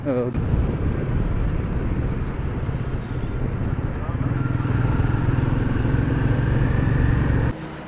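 A Royal Enfield Meteor 350 motorcycle engine drones steadily while riding on a highway, with wind buffeting the microphone throughout and a shift in engine tone midway.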